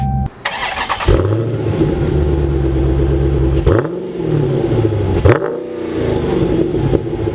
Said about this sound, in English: hit the engine start button, and it roars to life